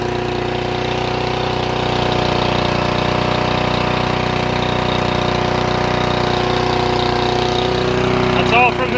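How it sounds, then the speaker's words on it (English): A lawnmower engine idles loudly and steadily nearby, a constant buzzing drone with a faint voice briefly heard near the end. "That's all from this lawnmower."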